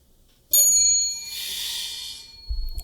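A single bright bell ding rings out during a gardening podcast, struck sharply with clear ringing overtones that hang and slowly fade over about two seconds in a quiet room.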